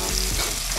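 Mashed boiled eggplant being stirred with dried fish in a hot frying pan, a steady close sizzle with soft scraping stirs and no talking.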